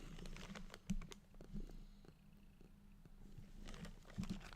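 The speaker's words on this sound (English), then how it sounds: "you're just purring" Cat purring, a faint close steady low rumble under soft taps and handling sounds, with no talking.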